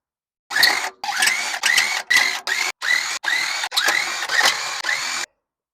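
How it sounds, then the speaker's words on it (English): Impact driver removing the rear wheel bolts on a 2013 VW Golf R, loud and close, firing in about nine short whirring, hammering bursts separated by brief gaps. "to fully remove the wheel bolts, I'm going to use an impact driver"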